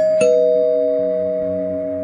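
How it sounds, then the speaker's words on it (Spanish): A house doorbell produces a single loud, close ding-dong chime, its tones ringing and slowly fading over a couple of seconds. "pican al timbre dos veces"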